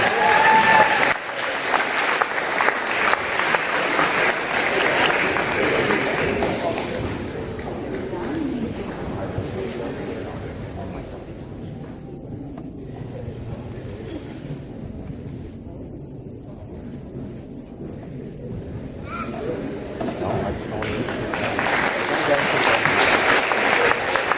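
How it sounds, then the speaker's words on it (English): An indoor crowd at a basketball senior night gives a sustained round of applause that dips in the middle and swells again toward the end, with voices in the room underneath. "big round of applause for Andrew Lee"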